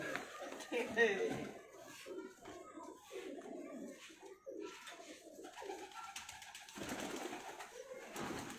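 Pigeons coo softly in the background while people talk close by, with chatter and light laughter throughout.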